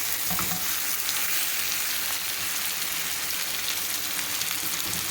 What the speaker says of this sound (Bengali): তো আমি মিডিয়াম আঁচে এখন চিকেনটাকে খুব ভালো করে কষে নিচ্ছি।